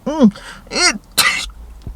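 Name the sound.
sneeze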